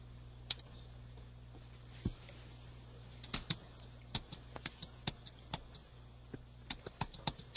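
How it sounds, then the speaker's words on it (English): Scattered keystrokes on a computer keyboard click at an irregular pace, sharp and fairly close, over a low steady hum, with no one speaking. "I'm hearing your clicking"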